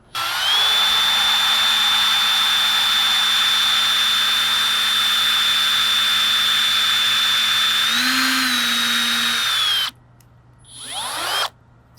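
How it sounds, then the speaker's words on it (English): A loud power drill whines steadily into the metal center of a broken car antenna post for about ten seconds, its pitch shifting briefly under load before it stops, followed by a short rising whir. "we're just trying to drill out the center of that antenna post"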